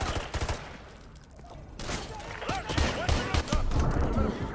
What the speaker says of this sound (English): I'm getting shot from up top